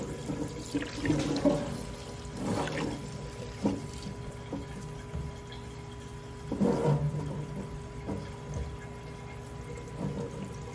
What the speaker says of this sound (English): I'm just going to let the solvent run through this for a little bit.